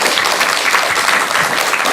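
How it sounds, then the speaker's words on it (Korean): A studio audience gives loud, warm applause for a guest, steady close clapping with no pause throughout. "우리 김경호 회장님께 뜨거운 박수를 보내드리겠습니다"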